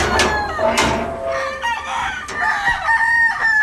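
Young gamecocks at a game farm crow close by, loud and overlapping, with several strained calls following one after another and occasional clucks mixed in.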